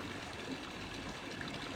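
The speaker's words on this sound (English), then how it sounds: "She loves the feel of that water. Little hydro massage." Water from a hose or tap flowing and trickling over a reproductive female sea turtle's shell as a hydro massage, a soft continuous splashing hiss, faint and steady with no voices.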